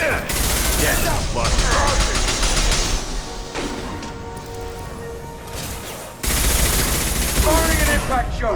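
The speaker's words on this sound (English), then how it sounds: "firing an impact shot" Impact shot weapon fire in Mass Effect 2 with loud, dense bursts of gunfire and crashing at the start and again near the end, separated by a quieter stretch where a voice speaks.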